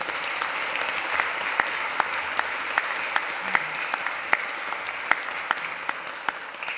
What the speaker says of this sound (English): Bilal has just got you all clapping because I'm going to do the same